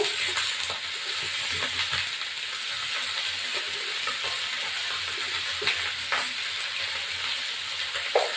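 Onion and potato fry in a pan with a steady, bright sizzle, broken by scattered clicks and scrapes of stirring close by.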